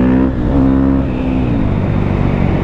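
A KTM 450 EXC-F 2017 single-cylinder enduro motorcycle engine revs up loudly while accelerating in second gear, its rising harmonic whine close and continuous with no talking.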